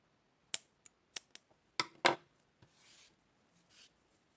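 Scissors snip crochet yarn on an amigurumi flower piece, several sharp close clicks and snips in quick succession, then soft rustling of the yarn, with no talking.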